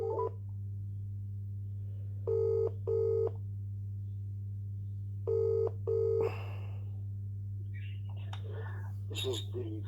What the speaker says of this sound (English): Ring up Graeme Kenna